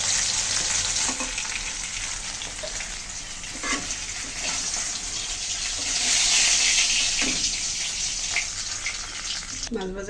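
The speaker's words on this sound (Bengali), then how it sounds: "মাছের এই দুই পিসও ভালো করে ভেজে নিলাম" Tilapia pieces fry in hot oil in a pan, giving a steady, close, continuous sizzle with brief stirring or turning sounds throughout; nobody speaks.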